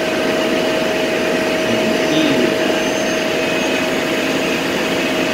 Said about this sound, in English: Blast of air.